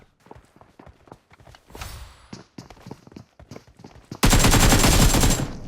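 Rapid automatic gunfire from PUBG Mobile, a dense burst of shots that starts abruptly and runs loud for over a second after scattered single footstep-like taps and quieter game sounds.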